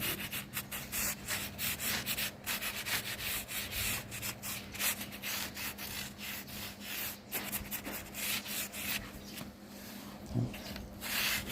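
Hand planing on a defective wooden panel, a run of rapid scraping and rubbing strokes in an irregular rhythm, close but fairly quiet, with a faint steady hum beneath.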